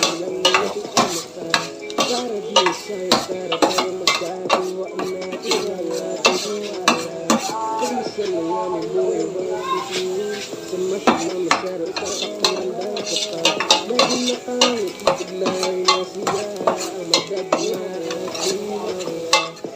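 Garlic is added to a pan while chicken feet curry cooks, with steady sizzling under repeated close clinks and scrapes of a metal spoon against the pan.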